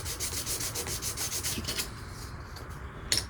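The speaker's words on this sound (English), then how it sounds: "Maybe a little block here with some sandpaper on it. It's 320." Hand sanding with a block of 320-grit sandpaper on a custom bass guitar pickup part, quick rhythmic back-and-forth rubbing strokes close by, slowing to a stop, then a brief knock.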